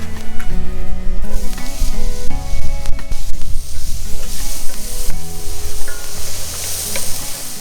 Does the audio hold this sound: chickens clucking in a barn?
no